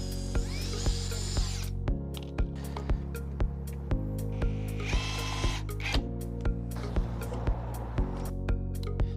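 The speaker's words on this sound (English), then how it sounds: "Right, okay, I'm going to drill the first hole," A power drill whirs in several bursts drilling a hole in a wall, starting and stopping repeatedly with steady motor hum and brief high-pitched whines between pauses.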